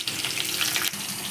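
Potatoes and pointed gourd fry in a pan, making a close, steady watery sizzle with a brief flare of louder crackle partway through.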